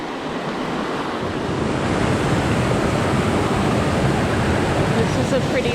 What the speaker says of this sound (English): This is a pretty little cascade.